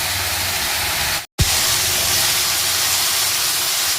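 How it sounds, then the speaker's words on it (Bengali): Beans, capsicum and carrot fry in a pan, a dense, loud, close hiss of sizzling vegetables that drops out for a moment and then carries on steadily. "বিনস, ক্যাপসিকাম আর গাজর ভাজা হচ্ছে"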